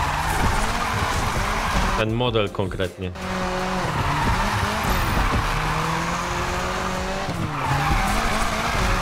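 Tires squeal and skid as a car drifts in the NFS Unbound racing game, long sliding screeches over a constant engine roar, while someone talks over the sound.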